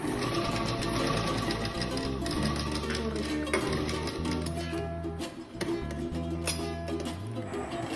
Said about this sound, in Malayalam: എന്നിട്ട് ഈ നെറ്റും നമ്മൾ ആദ്യം കട്ട് ചെയ്തിട്ടുള്ള ലൈനിങ്ങും തയ്ക്കുക.